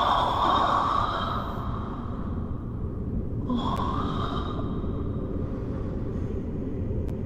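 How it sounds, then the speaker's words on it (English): Slow, heavy breathing of the devoured god Gwyndolin in the Dark Souls 3 video game, a low rumbling rasp with snort-like intakes that continues steadily through the whole stretch, with no talking over it. "you could still hear Gwendolyn's breathing"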